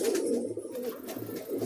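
Desi Madrasi pigeons kept in a loft cell coo close by in soft, throaty rolling phrases that rise and fall over a quiet background.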